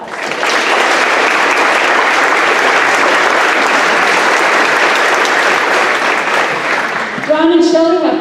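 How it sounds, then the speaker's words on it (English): Loud audience applause fills a school gymnasium or hall during a high school Veteran's Day assembly, steady massed clapping that runs evenly before a voice starts speaking over the final moments. "Let's give Ronald a nice round of applause."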